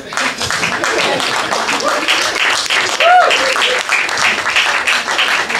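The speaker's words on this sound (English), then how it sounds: "Clap it up for him." Audience applause and clapping fill the room at an open mic night in a brew house gallery, a steady dense patter of many hands held for several seconds, with faint voices and a brief whoop mixed in.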